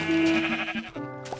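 Sheep bleating in the Minecraft video game, a loud wavering in-game bleat that lasts about a second, followed by a shorter second bleat close by.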